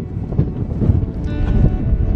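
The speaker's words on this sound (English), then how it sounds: "Windy right here." Strong wind buffets the microphone on Skellig Michael island off Ireland, a loud, rough, continuous rumble with gusting swells and no speech.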